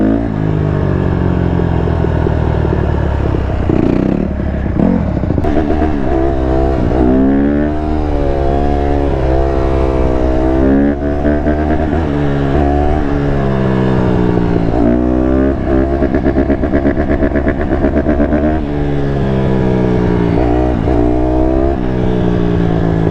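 A Honda CRF150RB dirt bike engine screams at high revs on a top speed run, its pitch climbing and dropping through repeated gear changes, loud and close with wind rush throughout.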